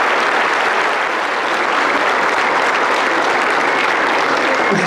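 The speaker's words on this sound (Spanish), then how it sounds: "Un aplauso, por favor, a todas esas madres que nos ven desde allá arriba" Sustained, dense applause from a crowd at a municipal Mother's Day celebration in Acajete, loud and steady throughout with no speech over it.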